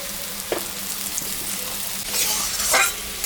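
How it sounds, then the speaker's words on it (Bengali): Potato pieces fry in oil left over from frying fish for a rohu curry, a steady close sizzle with a few sharper stirring scrapes and a brighter burst of crackle near the end. "মাছ ভাজা তেলের উপরে এই আলুটা আমি ভাজে নিচ্ছি।"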